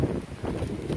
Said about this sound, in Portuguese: ainda tá ventando bastante.